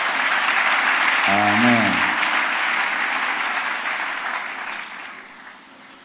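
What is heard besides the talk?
church congregation applauding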